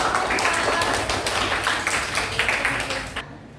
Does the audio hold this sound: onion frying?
no